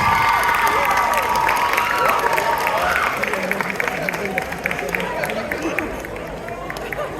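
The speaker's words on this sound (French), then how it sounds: "Applaudissez-les bien fort." Audience at a Japanese culture convention cosplay contest applauding and cheering the participants, a dense wash of clapping and crowd noise filling a large hall, loud and continuous throughout.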